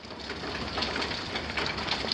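Rain pattering steadily on outdoor HVAC condensing units, a constant close hiss of drops striking metal with no speech.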